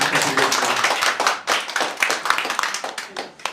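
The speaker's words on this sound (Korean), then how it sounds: "다시 한번 박수 부탁드리겠습니다" A crowd at a Korean political party event welcoming a newly recruited member claps loudly and steadily. The dense, close applause is sustained throughout with slight swells.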